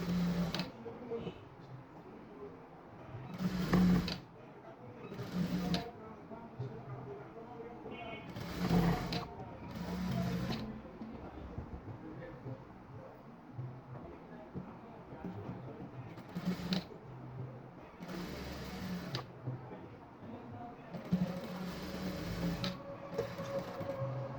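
A tailoring sewing machine stitches fabric with a half-inch seam allowance in a steady mechanical run, interrupted by several sharp loud knocks and clunks as the cloth is handled; faint background noise persists throughout.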